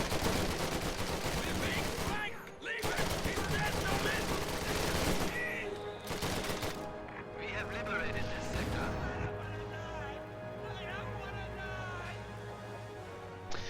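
Rapid bursts of gunfire and heavy impacts as a bulldozer unit fires on grenadiers in the Company of Heroes video game, dense crackling volleys with brief pauses, fading to scattered shots and a low rumble.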